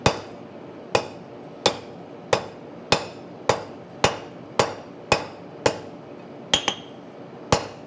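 Hammer blows forging hot metal on an anvil during a swing-out, about a dozen sharp ringing strikes in a steady rhythm, loud and close, with no talk.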